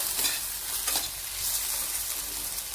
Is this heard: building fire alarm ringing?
no